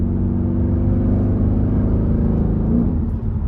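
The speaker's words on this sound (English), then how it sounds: "So that's a downshift into third. It's like quarter throttle." A 2015 Mercedes E63s AMG wagon's engine revs on a downshift into third at light throttle, a deep, steady, loud rumble heard from inside the car that holds throughout.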